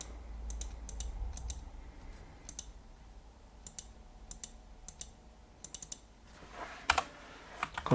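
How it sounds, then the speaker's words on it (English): Typing on a computer keyboard in short clustered bursts of quiet, close clicks separated by pauses, with a louder flurry near the end and no talk. "You can use the arrow keys on the keyboard so you have more control."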